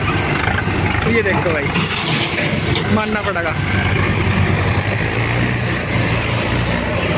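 A Sonalika 745 tractor engine drones steadily at close range, a continuous low rumble under someone talking throughout.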